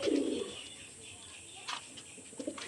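Soft, low pigeon cooing in a loft near the start, with faint coos and light rustling later on. No talking.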